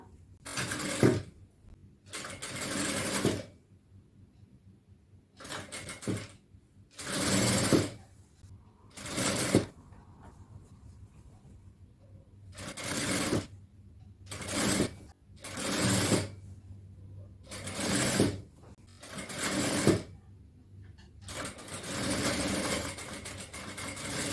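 An electric sewing machine joins fabric pieces in a tailoring lesson. It runs in about a dozen bursts of a few seconds each, close and steady, separated by short quiet pauses.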